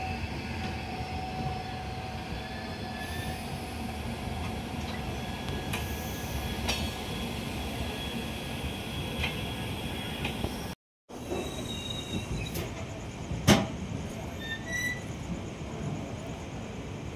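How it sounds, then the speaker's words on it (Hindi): Train arriving from the opposite direction at Mahajan station at night, heard from aboard the Amritsar–Bikaner Superfast Express: a loud continuous rail rumble with faint squeals, a brief dropout, then sharp clanks as carriages pass close by. "सामने से ट्रेन आई है"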